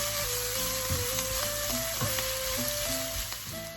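Shakshuka mixture of vegetables with fresh herbs being mixed in a frying pan, with a steady close sizzle and soft repeated stirring scrapes, accompanied by a faint background tone with no talking.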